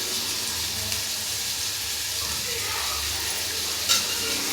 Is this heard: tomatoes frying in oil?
yes